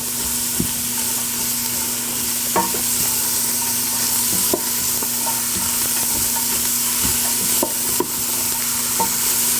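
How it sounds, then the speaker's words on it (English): Vegetables for soup are stirred in a pot as they soften, with a continuous sizzle and occasional spoon scrapes and taps against the pot, close and steady with no voices. "I'll stir these around so that they don't brown on the bottom"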